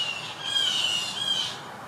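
A bird squawks and calls loudly nearby, a single harsh, sustained shrill cry that swells and then fades, heard alone with no talking.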